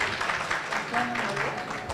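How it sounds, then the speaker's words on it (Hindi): A church congregation at a Christmas program breaks into sustained, dense clapping that runs through the whole moment, with voices mixed in beneath the applause. "हालेलुया, ताली बजाइए"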